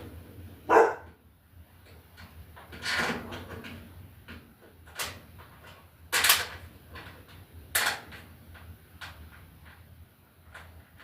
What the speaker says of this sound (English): we have my puppy dog